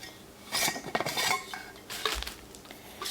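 A Simple Modern 24oz Classic tumbler's snap lid is opened and closed, giving several sharp plastic clicks and clacks in quick succession, close up and fairly loud, with no talking.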